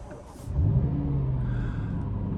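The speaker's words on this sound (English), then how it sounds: "Starting the engine up," A Jaguar XK's engine cranks and catches after about half a second, settling into a steady, smooth low rumble that stays close and fairly loud to the end.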